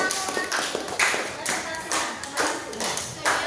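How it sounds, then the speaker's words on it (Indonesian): A classroom audience claps for a student group after their presentation, a few hands beating in loose uneven bursts, fairly close, with voices talking over the clapping. "tepuk tangan untuk kelompok 3"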